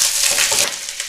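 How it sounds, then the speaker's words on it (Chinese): Ginger and scallions hit a hot pot before giant prawns are boiled, giving a loud, bright, continuous sizzle with crackling spits, close up and alone. "姜葱直接下锅"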